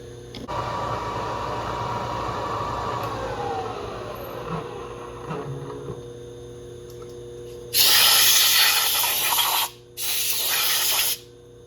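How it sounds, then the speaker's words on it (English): WD-40 is sprayed from an aerosol can onto a machined R6 cylinder head in two loud, close hissing bursts, following a quieter stretch of machine hum and fading motor whine. "Just shot on WD-40."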